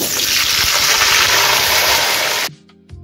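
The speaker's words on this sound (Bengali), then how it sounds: "এখন আমি সবজিগুলো 30 সেকেন্ডের মতো ভেজে নিচ্ছি।" Pumpkin, white potato, sweet potato and ridge gourd for labra fry in hot oil in a pan, giving a loud, steady, close sizzle that cuts off abruptly, leaving near-silence with a faint clink.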